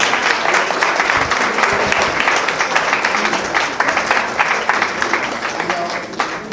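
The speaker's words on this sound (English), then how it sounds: "please, let's give her another round of applause" Guests at a community gala dinner applaud a speaker, a few seconds of thick, continuous clapping from a crowd that tapers slightly toward the end.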